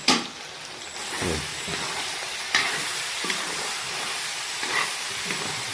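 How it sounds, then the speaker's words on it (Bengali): Potato curry with coriander powder, chili powder and turmeric stirred in a pan, a loud, constant hissing sizzle with a few heavier scraping strokes of the spoon, heard up close without any talking. "এটা একটু নেড়ে দিচ্ছি, একবারে কষা কষা হয়ে গেছে।"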